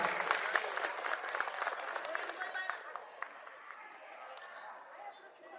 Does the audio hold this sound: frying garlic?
no